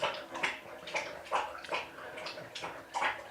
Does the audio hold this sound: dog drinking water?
yes